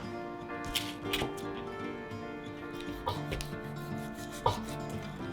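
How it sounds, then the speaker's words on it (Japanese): A kitchen knife slices through raw chicken breast on a cutting board, giving soft scraping strokes and a few sharper knocks against the board, close by and moderately quiet. "まずは鶏胸肉を真ん中で2つに切り分けます。"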